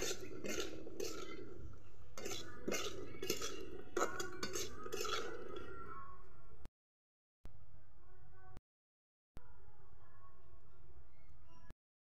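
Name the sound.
stirring food in a cooking pot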